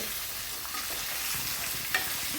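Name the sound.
peanuts and chickpeas sizzling while sautéing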